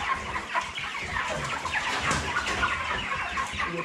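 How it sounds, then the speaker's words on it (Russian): Ross 308 broiler hens clucking nearby, a continuous busy chorus of overlapping clucks and soft squawks with no voices. "Вот курочка."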